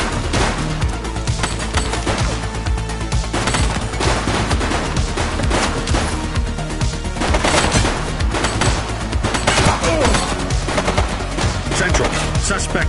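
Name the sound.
gunfire in The Precinct video game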